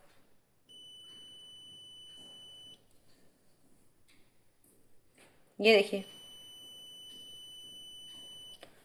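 An electronic buzzer on a resistor circuit, wired in series with resistors, gives a steady high-pitched tone for about two seconds. It then sounds again for several seconds after a sharp knock, while someone talks quietly over it.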